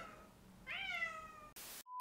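A house cat meows once, close and clear, with a rising-then-falling tonal cry, followed by short bursts of noise and a brief electronic beep.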